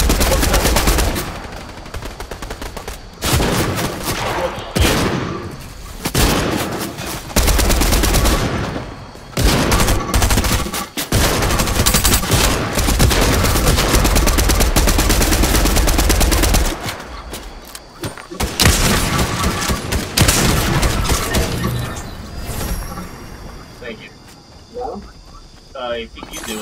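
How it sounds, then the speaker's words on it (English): Fortnite battle royale gunfire on PC, long stretches of loud, dense automatic bursts broken by short pauses, with players talking excitedly over the shooting. "You're shooting at me."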